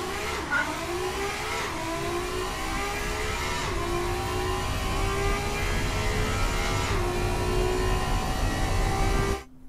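A carbon-fibre Fiat Cinquecento race car with 400 horsepower in the game Automation accelerates hard, its engine note climbing through several quick gear shifts, loud and close, before cutting off abruptly at the end.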